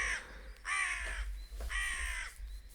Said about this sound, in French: c'est une corneille noire